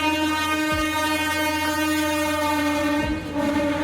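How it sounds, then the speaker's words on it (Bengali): A train pulls into Dalkhola station at night, its steady rumbling and rail noise filling the scene, with a horn sounding close by and loud throughout, joined by brief low clunks of the carriages. "এখন ট্রেন ডালখোলা স্টেশনে পৌঁছালো।"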